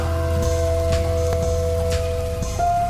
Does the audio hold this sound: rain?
yes